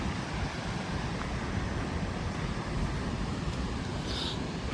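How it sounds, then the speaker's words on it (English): Godafoss waterfall in Iceland gives off a constant, dense roar of falling water that stays steady throughout, with cold wind buffeting the microphone. "This might be my new favorite waterfall in Iceland."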